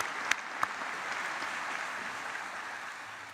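Moderate, steady applause from a large outdoor memorial ceremony audience for a military band and chorus, with a couple of sharper individual claps standing out early on.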